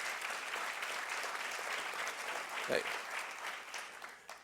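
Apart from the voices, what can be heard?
audience clapping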